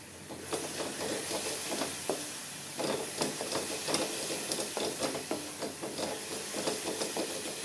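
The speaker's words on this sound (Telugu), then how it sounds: "వేసి అలా కలుపుతూనే ఉండాలి కంటిన్యూస్గా మనం" A coconut mixture stirred continuously in a hot pan, loud hissing sizzle with rapid repeated scraping strokes of a utensil, close up and unbroken, with no voices.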